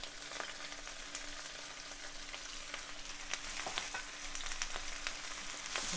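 Snow peas and broccoli greens stir-fry with shrimp in a hot pan, giving a steady crackling sizzle with scattered pops and occasional stirring scrapes, moderately close and without talk.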